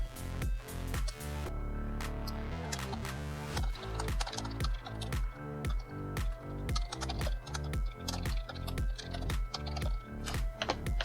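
Rapid computer keyboard typing while writing Python code, a dense run of crisp key clicks in quick bursts with short pauses, close and clear, no voice.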